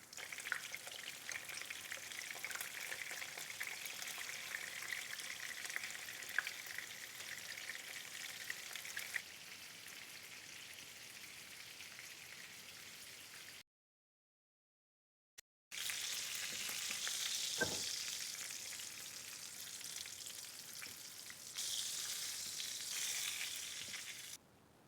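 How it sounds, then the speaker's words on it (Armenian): Meat cutlets fry in a pan over low heat, giving a steady, close crackling sizzle that breaks off briefly in the middle, then resumes and continues without any talk. "հիմա երկու կողմից մարմանդ կրակին հանգիստ գեղեցիկ տապակելու ենք"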